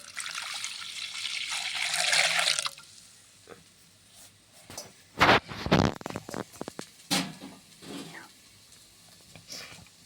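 Water is poured into corn flour to make a slurry for a green pea dal, a splashing, hissing pour over the first few seconds, followed by scattered sloshing and stirring sounds.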